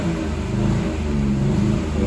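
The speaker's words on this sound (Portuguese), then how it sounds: "Vou dar uma acelerada para sair a fumaça lá no escapamento, pessoal." A Fiat engine revving hard in a loud continuous roar close to the microphone, the pitch rising and wavering slightly as the throttle is held open, with no voices.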